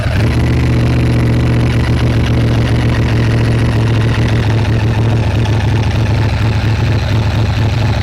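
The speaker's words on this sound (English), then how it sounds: "try and hold everything with one hand, and start the bike again" A Ducati ST3 motorcycle, jump-started from a lithium jump pack after starting trouble, runs at a steady, loud idle with a deep rumble that holds unbroken for the whole stretch.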